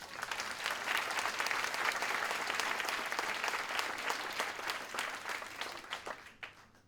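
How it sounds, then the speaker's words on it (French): A crowd claps continuously and fairly loudly for several seconds, the applause thinning and fading out with a few last claps at the end. "Vous pouvez applaudir cette équipe."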